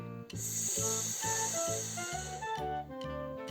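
A voice imitates a grass snake's hiss, a drawn-out, steady "shhh" held for a few seconds over a gentle, repeating musical accompaniment.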